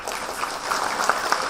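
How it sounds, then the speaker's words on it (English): A room full of people claps together, a steady dense patter of applause that carries on evenly through the moment. "can we all give a round of applause to the translators"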